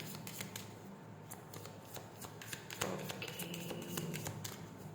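Tarot cards being shuffled close up, a steady run of quick rustling flicks and light taps at an even, quiet level throughout, with no voices.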